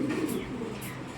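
Racing pigeons from a club loft cooing softly, a couple of low murmuring coos close by over a faint steady background.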